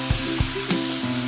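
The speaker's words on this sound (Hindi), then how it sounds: "जीरा फ्राई हो रहा है, हम उसमें 1/2 कप टोमेटो प्यूरी डाल रहे हैं" Tomato puree sizzles loudly in a pan of fried cumin, a steady close frying hiss with a few soft scraping stirs at regular intervals and no voices.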